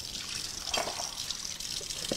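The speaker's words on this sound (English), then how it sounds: "I'm gonna rinse this off." Water runs from a kitchen tap as something is rinsed off, a steady close splashing hiss with a few drip-like spatters and no talking.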